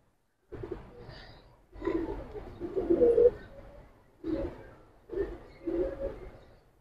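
Silver gribaz and bagha pigeons coo nearby in a series of soft, throaty, rolling calls, roughly five separate bursts with short pauses between them, against a quiet background.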